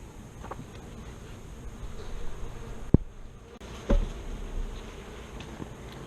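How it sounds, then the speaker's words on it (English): Steady, dense buzzing of many honeybees close by around a Flow Hive during an inspection, with a couple of brief knocks or thumps partway through. "Some of these bees flew out."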